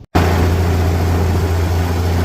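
Tractor engine running steadily while hauling corn back to town on a farm road after a day's work, a loud, continuous low drone with no pauses or talk.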